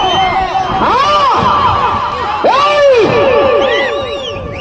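A dense crowd at a village competition in Timmampalli, loud and close, with shrill rising whistles sweeping up repeatedly and a steady roar of shouting and cheering throughout.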